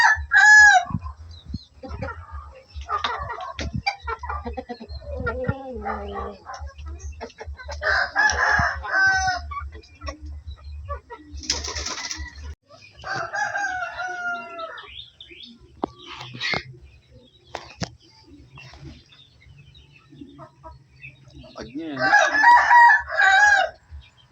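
Free-range native chickens on a Philippine farm cluck steadily, and a rooster crows loudly several times close by over a constant low background hum.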